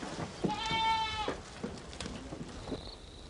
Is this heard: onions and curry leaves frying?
no